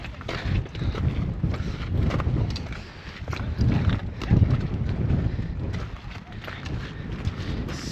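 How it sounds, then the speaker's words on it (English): Wind gusts over a high alpine mountain trail on Mount Rainier, with blustery buffeting against the microphone that swells and eases. Footsteps crunch underneath, and a voice speaks. "It's breezy."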